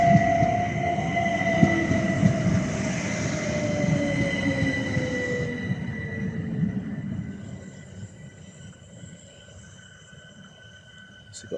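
A Class 465 electric train rolls into Sevenoaks station to terminate, its motor whine falling in pitch as it slows, with wheel squeal and rumble fading to a quiet stand, close by on the platform.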